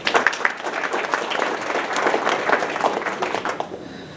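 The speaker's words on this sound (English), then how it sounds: "a big round of applause for that" A crowd at a Telugu community chapter meet-and-greet at Ruchi Palace restaurant in Dallas gives a hearty round of applause, loud and sustained with scattered sharp claps, thinning out toward the end.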